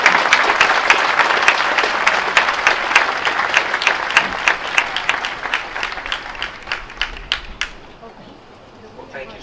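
A graduation ceremony audience applauds steadily as a speaker is welcomed, loud dense clapping from many hands that gradually thins out and fades toward the end.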